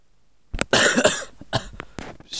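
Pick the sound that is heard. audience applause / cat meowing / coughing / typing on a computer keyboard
coughing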